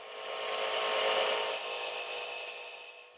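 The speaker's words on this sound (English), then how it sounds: "we'll make one last pass over the outside curves with the Easy Rougher" A lathe rougher tool scrapes across a spinning wooden bowl's outside curve in one smooth, steady cutting pass, a close rasping hiss that swells and then fades slightly.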